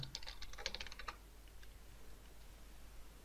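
A quick burst of keystrokes on a computer keyboard lasts about a second, soft and close, then gives way to near silence with a lone faint tap.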